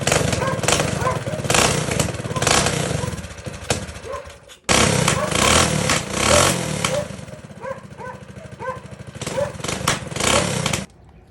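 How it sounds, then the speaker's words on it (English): A minibike engine fitted with a new carburetor starts and settles into a steady, loud, buzzing idle close by, with a brief cut and a few small throttle swells while it runs. "Alright, let's try to start it."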